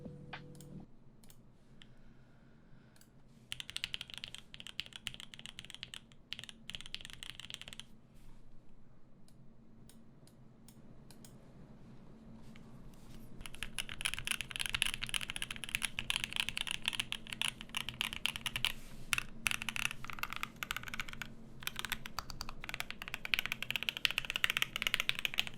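Mode80 mechanical keyboard fitted with Durock 62g switches typed on continuously, a close, steady run of clacky keystrokes that grows busier and louder in the second half, with no talking.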